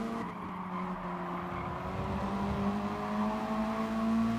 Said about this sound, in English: some more contact happening right alongside us, and seems like somebody is spinning out